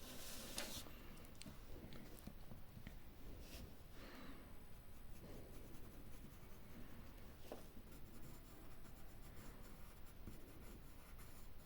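A B pencil drawn gently across paper, soft continuous scratchy strokes with brief pauses and light taps, quiet and close, no voices.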